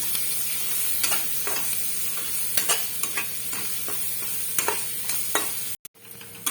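Freshly pounded ginger garlic paste fries with softened onions in a pan for biryani, giving a steady close sizzle broken by sharp scraping stirs, with no talking.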